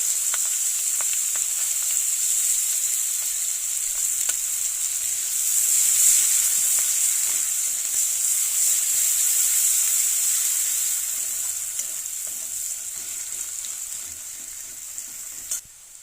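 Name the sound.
chopped onion and green chili frying in hot oil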